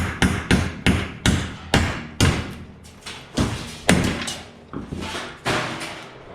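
Repeated sharp hammer blows on scrap metal, a dozen or so irregularly spaced strikes, each with a short ringing clang, close by.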